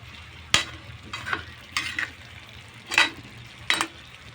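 Chicken adobo frying in its own rendered fat in a pan, a soft continuous sizzle broken by several louder scraping stirs and bursts of spattering at irregular intervals.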